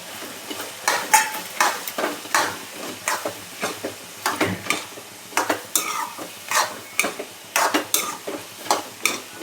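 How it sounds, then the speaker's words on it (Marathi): Spice masala stir-fried in oil for a rustic pea and potato vegetable dish, with steady rhythmic scraping strokes of a spatula against the pan over a constant sizzle, loud and close, with no voices. "छान परतून घ्यायचा आहे मसाला आपल्याला, तेल सुटेपर्यंत"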